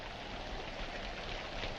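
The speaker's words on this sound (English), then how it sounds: "In this rain? Yes, in this rain." Steady rain pours in a 1946 film scene, a dense, even hiss of falling water held at a constant level with no voices.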